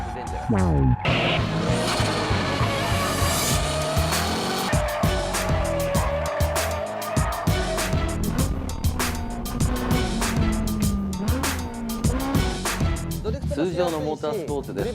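Car engine revving hard with squealing tires as it slides in drifting, loud and continuous, with a voice talking over the roar.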